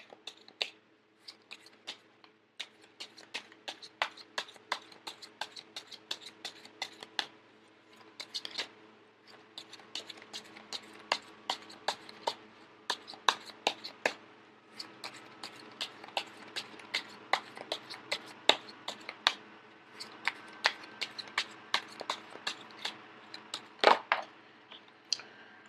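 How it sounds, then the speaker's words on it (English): A deck of tarot cards is shuffled by hand, producing quick riffling flutters and sharp crisp snaps that come in bursts and pauses, close and fairly quiet throughout with no talking. "I am going to shuffle until the first card pops out"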